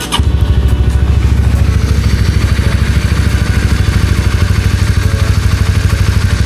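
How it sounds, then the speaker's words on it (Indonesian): A Vespa scooter engine runs loudly and close by, a steady rapid pulsing putter after a brief clatter at the start, during a solo ride through Borneo, with no talking. "Nah, untuk suara engine masih enak."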